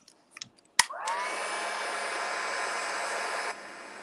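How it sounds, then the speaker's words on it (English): A heat gun switches on after a click and blows a steady, loud whooshing roar while heat embossing a card sentiment, then cuts down near the end. "And then just heat emboss that."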